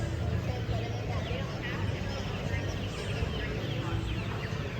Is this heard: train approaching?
no